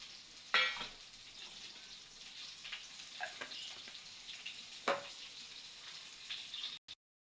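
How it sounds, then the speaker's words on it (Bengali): Potol (pointed gourd) pieces fry in a pan for a curry with pangas fish, a steady faint sizzle with a few sharper crackling bursts and stirring clatters, near, with no talk. "এদিকে পটল ভাজাগুলো হতে থাকে"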